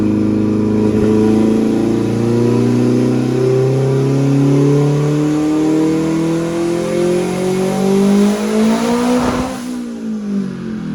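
A forged Nissan VQ35 V6 in a highly tuned Juke revs hard and loud up close, its pitch climbing steadily over several seconds before a sharp break and drop near the end.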